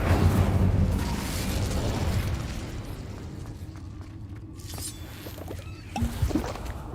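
Incendio fire spell cast in Hogwarts Legacy, a fairly quiet stretch of rumbling game ambience that ends in a short, louder burst of fiery popping.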